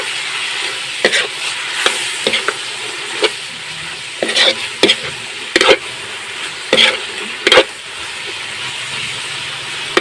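Dinaldalem being stirred in a cooking pan with condiments, giving a steady frying sizzle and hiss with intermittent scraping strokes of the utensil, close and fairly loud, no talking.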